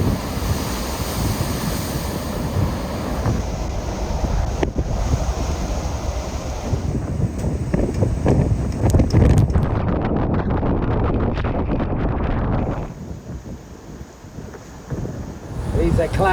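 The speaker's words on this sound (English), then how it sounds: "These big waves crashing over the seawall behind me." Big typhoon waves crash over a seawall on the Okinawa waterfront amid strong onshore wind and spray: loud, continuous roaring surf and heavy buffeting wind noise on the microphone, easing slightly near the end.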